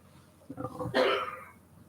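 A woman with the flu lets out a single short cough after a brief throat-clearing rasp, close and fairly quiet against a calm room.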